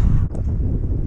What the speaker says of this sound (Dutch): Tegenwind.